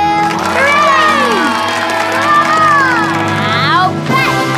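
A cartoon crowd of children cheers, shouts and whoops loudly and continuously, with rising and falling voices over a bright, steady musical backing.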